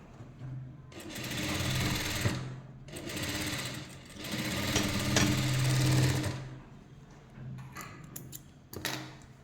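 A sewing machine stitching across a kurti V-neckline during an alteration, running in two long fast bursts with pauses between and a short final burst, close and clear.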